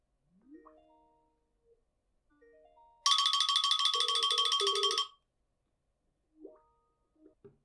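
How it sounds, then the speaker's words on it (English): A mobile phone rings from an incoming Skype for Business call: one bright, buzzy ringing burst lasting about two seconds, set between a few soft, separate tonal chimes in an otherwise quiet room. "let me actually call myself using Skype for Business. I'm just going to be calling my mobile phone"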